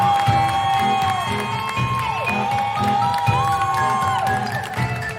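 A crowd cheers and shouts wildly for several seconds, a dense roar of many voices with whoops rising over it, fairly loud and continuous.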